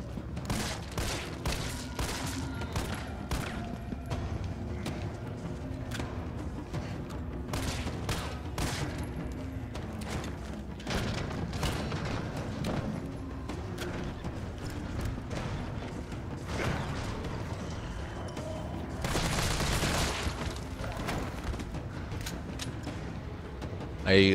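Dense, sustained assault rifle bursts from the Resident Evil 3 Remake video game fire almost continuously for over twenty seconds, with sharp overlapping shots, occasional mechanical clicks and a louder flurry near the end, while a voice talks at times underneath.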